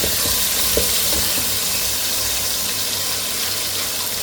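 Finely chopped tomato added to well-sautéed onions in a hot pan for chicken and potato pulao, a steady loud hiss of frying with faint stirring, no talking.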